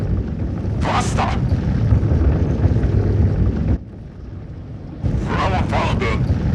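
Me 163 Komet rocket aircraft engine throttling up for takeoff, a loud steady roar that briefly dips before surging back, with voices shouting over it.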